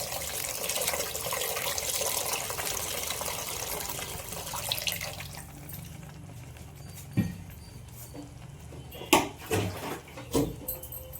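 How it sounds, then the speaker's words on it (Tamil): Tamarind extract poured into vendhiya kozhambu, a soft continuous liquid pour and splash for several seconds, then quieter with a few sharp clinks and knocks of utensils. "அதுக்கு தேவையான புளி கரைசல் ஊற்றிக்கலாம்"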